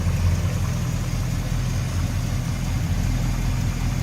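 A 1966 Plymouth Fury III convertible's 318 V8 engine idles smoothly and steadily at close range, a continuous low rumble with no voices.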